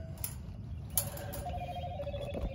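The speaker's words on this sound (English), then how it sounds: "Phone's ringing, gates are locked." A telephone rings briefly on a farm during flooding, a couple of short bell-like trills mixed with faint mechanical clatter, fairly quiet and close.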